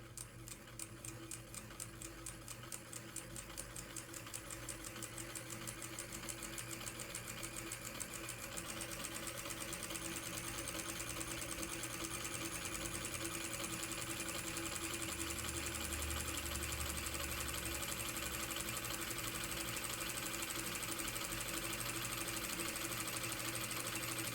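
A motorized keyboard switch tester runs steadily at up to 12 volts with a dense, rapid mechanical chatter and hum, its pitch and intensity building over time, no voices.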